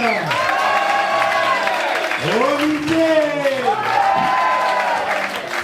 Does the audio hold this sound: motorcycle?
no